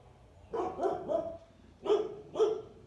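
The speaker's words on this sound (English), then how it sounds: "there my dog is barking" A dog barks indoors in two pairs of moderately loud, slightly distant woofs, with a short gap between the pairs and no talking over them.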